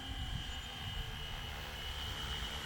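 A steady, continuous engine whine from a flying Flywing radio-controlled model helicopter, with a high sustained tone and rotor-like rumble, fairly close and unbroken throughout.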